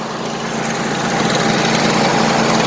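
A Craftsman pressure washer's small gas engine runs loudly and steadily close by, a constant buzzing drone with an even pitch and no talk over it.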